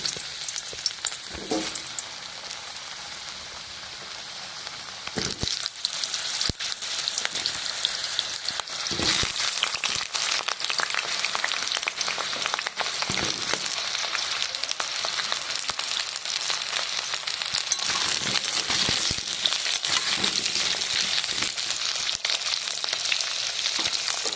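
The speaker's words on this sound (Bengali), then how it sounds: "তেলটা গরম হয়ে গেছে, আলুটা আমি ভেজে নেব।" Potato frying in hot oil for a village Bengali potol-and-prawn dish gives a steady, loud sizzle and crackle that swells after the first few seconds and runs unbroken, with occasional sharper pops and no talking.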